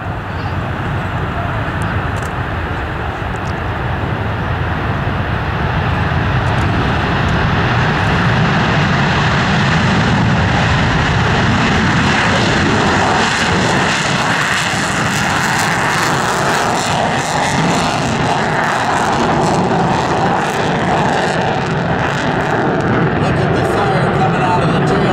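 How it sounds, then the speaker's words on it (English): A B-1B Lancer bomber makes a flyby at an air show. A loud, sustained jet roar swells and holds for about twenty-five seconds with rough, crackling texture, under faint announcer speech. "here comes the B-1B Lancer bomber."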